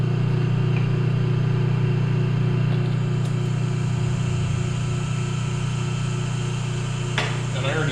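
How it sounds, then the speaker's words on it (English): Metal lathe running in a workshop with a part mounted on an expanding arbor, giving a steady loud motor hum and whine throughout, with faint clicks and a brief rattle near the end. "And then just gonna chuck it up in the lathe."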